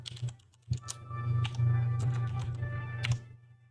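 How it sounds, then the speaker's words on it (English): Keys clatter on a USB computer keyboard as someone types, quick irregular clicks and taps close up over a low steady hum, with a brief denser burst near the end. "you can just start typing on your keyboard"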